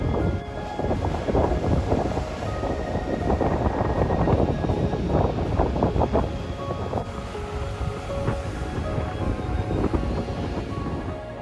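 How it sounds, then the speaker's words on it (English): Heavy rain lashing down with rumbling thunder, a dense, loud, continuous wash of noise with rolling low booms through the middle, steady to the end. "as the rain lashes down outside"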